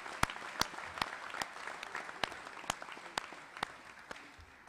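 A high school hall of fame audience applauding, with a dense patter of clapping and several sharper, louder claps standing out at irregular intervals, steady throughout.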